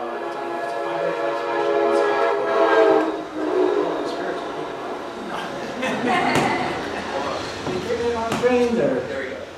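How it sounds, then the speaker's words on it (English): A train passing near a sweat lodge on the Pine Ridge reservation, a loud rolling rumble with repeated horn blasts rising and falling, with a voice talking over it. "Train like this goes by the sweat lodge."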